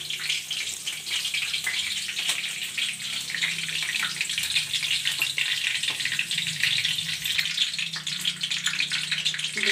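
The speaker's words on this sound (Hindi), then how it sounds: "तड़का डाल रहे" Steady, bright sizzling and crackling of mustard seeds and curry leaves hitting hot oil for tempering, continuous and close, with no talking.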